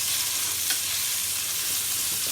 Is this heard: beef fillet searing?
yes